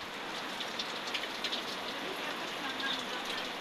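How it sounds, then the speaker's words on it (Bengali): Rain falling outside a home with a veranda, a soft continuous hiss heard at a distance, fairly faint and even throughout, with no talking. "কিছুক্ষণ পরে তো বৃষ্টি শুরু হয়ে গেল।"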